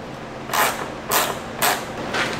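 Three or four short, evenly spaced creaking clicks as the top screw of the airbox on a 2016+ Lexus IS 200t 2.0L is turned out with a ratchet and extension, close and with no talking.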